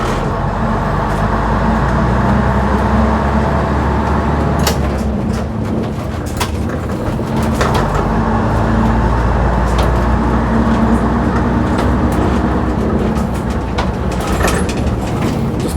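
An old Leyland Atlantean bus engine drones steadily while driving along, with road rumble and occasional rattles and knocks throughout, no voices.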